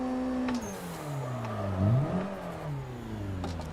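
A simulated car drifting in Assetto Corsa: the engine revs rise and fall in sweeping harmonic whines, dipping sharply and climbing again as the throttle is worked, with a faint tyre hiss beneath and no talking.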